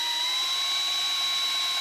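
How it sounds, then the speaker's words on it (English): Drill turning slowly into a Ryobi table saw part, a continuous whirring motor tone with a thin steady high whine, close and unbroken throughout. "Actually, if you drill slow, it does a lot better job."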